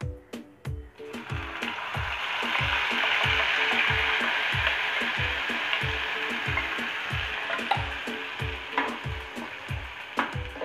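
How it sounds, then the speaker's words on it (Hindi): Ginger, garlic and chili paste frying with whole spices in a pan, giving a steady loud sizzle and crackle while a utensil scrapes and stirs in quick, regular strokes nearby. "अब इसमें डालूंगी अदरक लहसुन मिर्ची का पेस्ट।"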